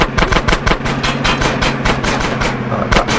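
Rapid gunfire in Grand Theft Auto San Andreas, steady loud bursts of shots in a fast rhythm lasting the whole stretch, close and dominant.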